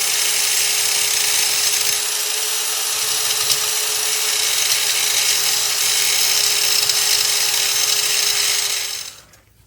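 Power tool grinding steel brake calipers for a Mark IV Toyota Supra big brake kit, a loud continuous high-pitched whine held steadily for about nine seconds before cutting off.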